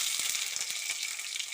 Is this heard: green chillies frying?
yes